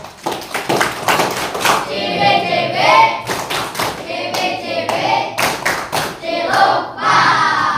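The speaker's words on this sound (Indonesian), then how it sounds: "Ini, tepuk tangan." A small group of participants at a teacher training session claps in short, uneven bursts, with sharp distinct hand strikes close by and voices talking between and over them.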